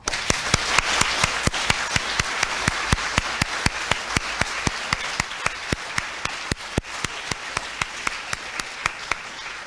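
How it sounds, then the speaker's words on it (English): A conference audience applauds steadily, dense clapping with sharp individual claps standing out, loud and close throughout with no talking. "Would you please join with me now as we thank them all by applauding their efforts on behalf of the entire ME community."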